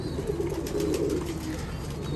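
Pigeons coo softly on a sunny rooftop after being fed and watered, a low steady murmuring coo that continues throughout at moderate level, with no talk.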